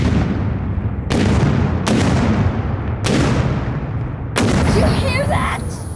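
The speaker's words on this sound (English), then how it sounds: "You hear that? Those big guns sure are powerful." Heavy artillery booms from big guns on a Confederate Army field: four loud blasts about a second apart, each with a long rumbling decay, over a steady background murmur.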